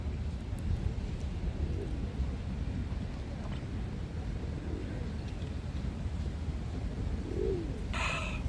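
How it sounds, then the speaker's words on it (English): Doves coo softly beside a street in Tokyo over a steady outdoor traffic rumble, with a faint low coo late on and a few brief chirps. "Look at all these doves approaching me."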